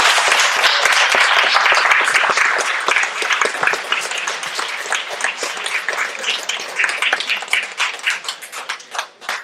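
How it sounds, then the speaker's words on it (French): At the swearing-in of newly elected municipal officials in Anse-Bertrand, the audience gives a loud round of clapping that starts dense and thins into scattered, individual claps as it fades. "Sous vos applaudissements"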